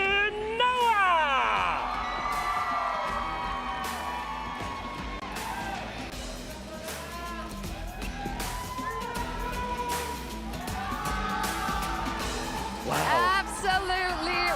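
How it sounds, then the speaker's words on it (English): A big live crowd at an MLBB esports playoff match cheers and screams steadily throughout, with rising whoops near the start and end, under excited commentary. "Absolutely wicked crowd."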